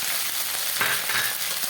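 Grated coconut frying in a pan with bay leaf, dried red chilli and five-spice seeds, giving a steady moderate sizzle with a brief scrape of stirring near the middle.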